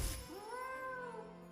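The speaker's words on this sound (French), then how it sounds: "Un petit chat." A single drawn-out meow from a cat in the video game Hogwarts Legacy, clear and close, rising then falling over about a second in a quiet scene.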